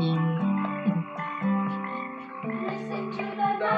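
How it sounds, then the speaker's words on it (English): A frog croaks at night in a close, continuous run of tonal, wavering calls that rise and fall in pitch, alone without any voices. "You can hear the froggy singing."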